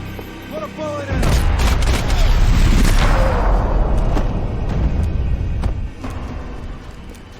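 Heavy gunfire erupts in Max Payne 3, a loud sustained barrage of overlapping shots and booming impacts lasting several seconds before easing off, with voices shouting over it.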